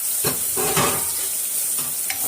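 Small sambar onions sautéing in a pan with a loud, steady sizzle and several stirring scrapes and swishes of a spoon close by. No one talks.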